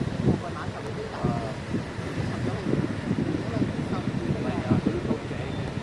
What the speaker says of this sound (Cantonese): 啲風浪幾大